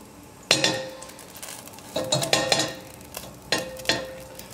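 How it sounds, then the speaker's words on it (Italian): Garlic sizzles in a frying pan alongside mushrooms and asparagus, with a steady low hiss broken by sharp clinks and scrapes of a utensil stirring against the pan. "Facciamo un po' sbruciacchiare l'aglio"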